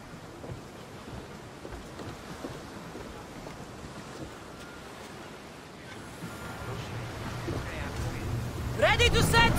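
Ocean waves wash against a sailing ship under constant wind in the video game Assassin's Creed Odyssey, a dense rushing wash that swells louder toward the end.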